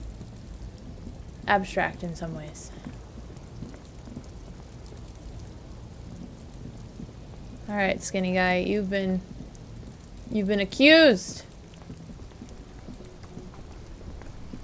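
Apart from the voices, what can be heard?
rain in the video game Disco Elysium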